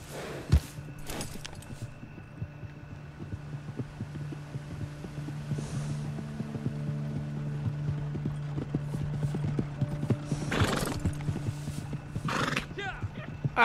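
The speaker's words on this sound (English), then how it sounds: "I'm on a horse." Hooves beat steadily as a horse rides through the Red Dead Redemption 2 world, with a couple of sharp neighs and snorts cutting in near the start and end over a low hum.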